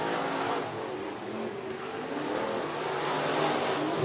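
Dirt track race cars roar around Cottage Grove Speedway in a heat race, a dense, continuous engine din at moderate distance with a steady, slightly swelling level.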